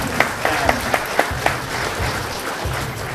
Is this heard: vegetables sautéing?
no